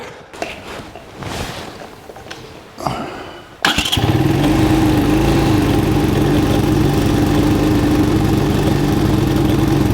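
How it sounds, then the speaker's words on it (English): A 1985 Honda ATC200M three-wheeler engine, running lean and backfiring through the intake, starts up after a few rough sputters and then runs loud and close with a steady, uneven chug. "Okay, still backfiring through the intake a little bit. That means it's still too lean."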